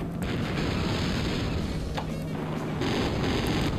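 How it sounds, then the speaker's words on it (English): FireEye turret rockets bursting in the vehicular combat game Interstate 76, a dense rumbling roar of explosions and rocket blasts that stays loud and steady across the whole stretch, with no talk. "The expert use of the FireEye turret rockets here, as it, they don't even hit the target at all."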